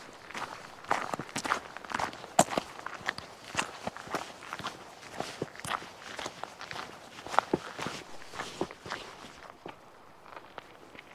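Boots tread steadily down a hill path in Glen Feshie in the Cairngorms, close crunching footsteps in an even walking rhythm for several seconds, with some breathing and no talk.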